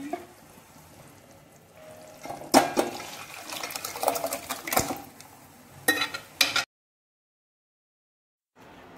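Tamarind water is poured into cooked sambar masala for idli sambar, a splashing trickle with clinks of utensils and pot, rising and falling before cutting off into silence.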